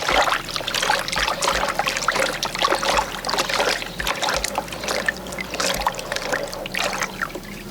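Plain water sloshes and trickles as it is mixed with a plant dye mixture for ecoprinting fabric, with irregular splashes and stirring close by and no voices.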